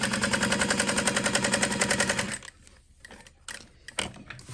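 A sewing machine stitches down a leather shoulder bag, running in a rapid, steady mechanical rattle for about two seconds, then stopping, with a few softer handling clicks and knocks afterwards.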